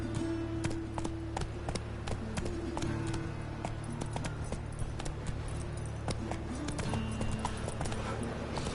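Steady clip-clop of Roach the horse galloping in The Witcher 3, hooves striking in a quick, even rhythm over a low game soundtrack, close and continuous throughout.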